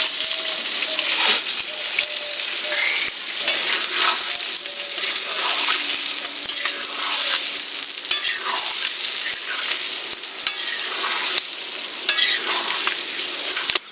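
Royal (nola) fish frying in hot oil for a pickle, a continuous loud sizzle with frequent light clicks and scrapes of stirring throughout.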